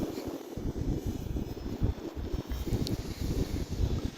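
A Hobbyzone Carbon Cub S 2 1.3m RC airplane flies at full speed outdoors, its faint motor buzz mixed with gusty wind noise buffeting the microphone.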